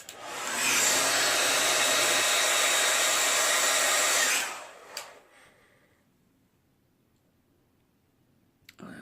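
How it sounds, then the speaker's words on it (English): A hair dryer blows steadily and loudly for about four seconds while setting zombie effects makeup, then cuts off, leaving a quiet room with a few faint clicks. "Let me hit that with the dryer."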